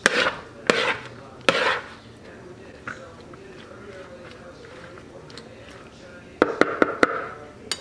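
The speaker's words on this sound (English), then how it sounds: "I'm just mixing the tuna fish, the celery, and the onion all around with the noodles." Tuna, celery, onion and noodles for macaroni salad being mixed in a bowl, with sharp utensil knocks and scrapes in bursts at the start and end and quieter stirring between.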